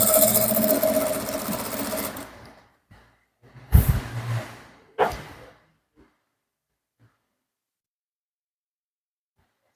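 A sewing machine runs in a steady whirring burst while stitching around an agbada neckline, stopping after about two seconds, followed by a few short separate bursts of stitching and then near silence.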